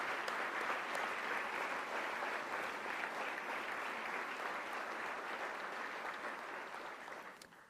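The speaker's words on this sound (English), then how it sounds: "give them another round of applause for all you've done" Sustained audience applause for a family at a Medal of Honor Hall of Heroes induction ceremony, dense even clapping from a sizeable crowd, tapering off at the end.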